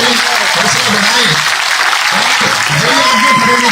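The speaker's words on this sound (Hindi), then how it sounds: "एक बार दोनों हाथ उठाकर जोरदार तालियों के साथ अपने बेटे अपने भाई का स्वागत करें" A big crowd at a village public rally in Pipli Khera, Gannaur, breaks into loud, sustained applause, a dense continuous roar of clapping close by with voices calling out beneath it.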